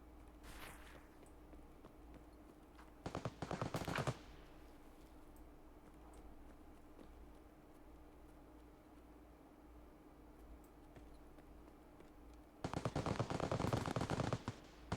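Bursts of rapid automatic gunfire from several guns during a G36 raid in a video game, two short volleys separated by a quiet stretch of low background hum, with no talk.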